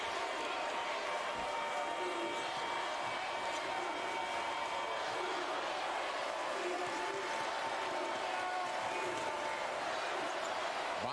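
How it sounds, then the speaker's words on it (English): A basketball arena crowd rumbles and roars throughout during a 2011 CAA Tournament semifinal between VCU and George Mason, a dense, steady wash of fan noise. "Now the Mason crowd making noise"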